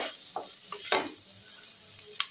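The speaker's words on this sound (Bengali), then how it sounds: "ভেন্ডিগুলো আমি এর মধ্যে দিয়ে আর একটু নাড়াচাড়া করে নিচ্ছি" Okra with egg and chaat masala being stirred in a frying pan: a few scraping, clattering strokes over a soft, constant sizzle.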